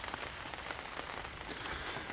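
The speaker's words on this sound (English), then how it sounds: "weather's absolutely rubbish, raining, lashing it down" Heavy rain lashes down at a fishing lake, a dense, steady patter of drops striking surfaces all around, with no voices.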